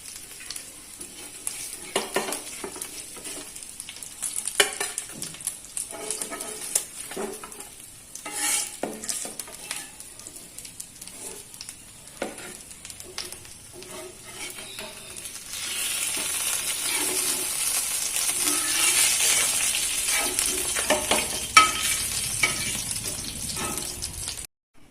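Masala-coated fish frying in shallow oil, a busy sizzle and crackle with frequent spatula scrapes and clinks against the pan, growing into a louder, denser hiss in the latter half, close and with no talking.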